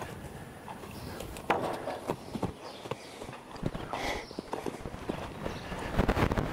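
A young horse moves about loose during liberty groundwork, its hooves clip-clopping irregularly on the ground at moderate distance, with soft thuds and shuffles over steady outdoor background noise.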